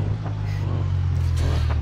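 A 2000-horsepower semi truck engine in BeamNG.drive drones low and steady, with a deep rumbling hum and faint mechanical hiss over it, fairly close and continuous.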